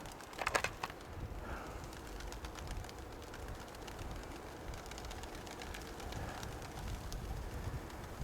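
Pigeons coo softly in the background of a dovecote while faint clicks and light rustling come and go, with a brief louder burst of noise near the start.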